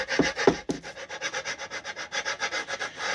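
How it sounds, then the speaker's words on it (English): A socket rubs against a bare aluminium oil pan where the protective tape has worn through, on an OM606 front sump modification; a steady, rhythmic scraping repeats for a few seconds at close range with no voices. "you can actually hear the socket rubbing the actual aluminum because the tape has worn through"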